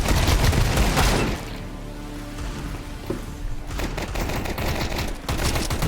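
Bursts of gunfire in a first-person shooter video game, loud dense rapid volleys at start and end with a quieter gap between.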